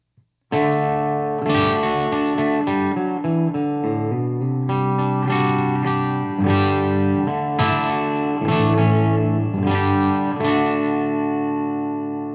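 Clean electric guitar through an ENGL Special Edition E670 amp on the clean channel with depth and reverb engaged, chords and single notes ringing out with a wash of reverb; bright, sustained, and fairly loud with no voices.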